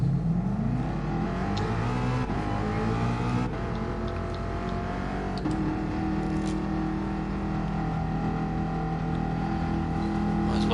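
A newish Ford car engine drones steadily while driving in a game, with a brief rise in pitch early on and then a constant loud hum.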